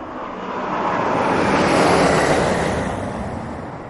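Boeing 707 airliner engines, a broad jet roar that swells gradually to a peak mid-way and then eases off slightly, like a nearby aircraft passing.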